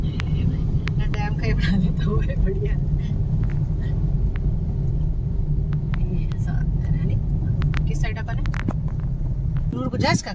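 A car passes on the road beside the Bhakhra canal near the dam, a steady loud engine rumble lasting throughout, with people talking over it.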